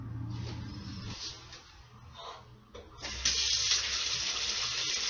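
Tap water runs into a kitchen sink while hands are washed after handling sausage for jambalaya, a steady hiss that grows louder and fuller partway through, close by with no talking.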